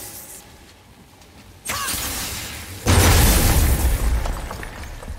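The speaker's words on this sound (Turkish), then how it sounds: "Want me to shatter it?" A crystal shattering explosion in God of War on PC: a sudden loud burst that keeps roaring, then a second, heavier blast, with rumble and crackle fading away.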